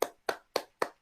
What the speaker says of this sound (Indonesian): Coba kasih tepuk tangan dulu untuk kelompok 1.